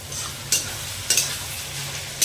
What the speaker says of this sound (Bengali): এবার দেখুন পেঁয়াজটা মোটামুটি আমার ভাজা হয়ে গেল লাল লাল করে